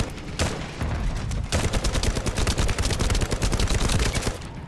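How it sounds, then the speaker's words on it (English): Rapid sci-fi gunfire from The First Descendant, a steady stream of close, loud shots after a brief opening burst, continuing without pause. "Stop shooting at the jammer."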